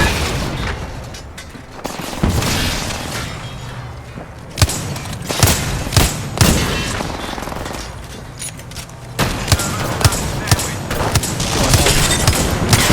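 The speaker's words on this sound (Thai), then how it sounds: "ระวังปืนกล" Machine gun fire and heavy thuds in a video game battle, repeated loud bursts and booms over a continuous roar, with shots clustering and easing across the stretch.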